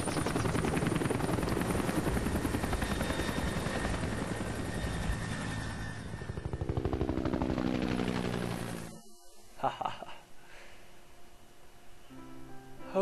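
A helicopter in Hitman: Blood Money, loud rapid rotor chopping with a steady pulsing thump that fades and drops out near the end, no talk.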